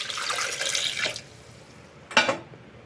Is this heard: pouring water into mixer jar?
yes